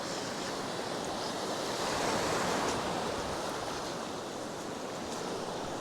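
High-tide sea waves at a Lakshadweep shore produce a continuous broad roar of surf, a loud steady wash that swells slightly midway, with some wind buffeting the microphone and no speech.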